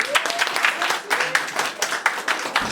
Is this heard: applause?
yes